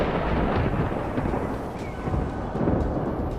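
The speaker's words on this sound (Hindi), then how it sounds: "तभी तेज बिजली कड़की" A deep thunderclap rolls on as a dense, sustained rumble for several seconds with steady loudness and no voices, a dramatic storm effect.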